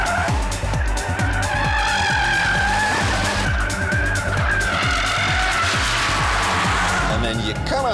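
A SAAB car skids through a corner on a test track, its tyres squealing in long, wavering shrieks over a loud, steady engine roar, with someone talking over it.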